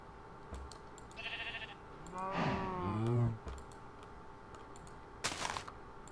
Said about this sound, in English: Hey sheep, eat some grass.